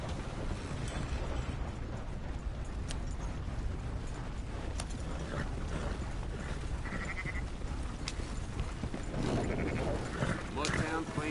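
Sheep bleat in a Red Dead Redemption 2 scene over a constant wash of background noise and rumble.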